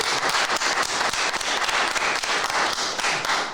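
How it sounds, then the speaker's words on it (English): A room full of people applauds veterans at a county commissioners meeting, with dense steady clapping that stays loud throughout and has no talk over it. "Let's give them a round of applause."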